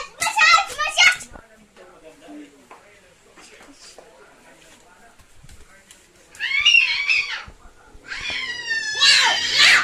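A voice imitates a cat, giving high-pitched meows in short bursts at the start and again near the end, with quieter child chatter and play noises in between.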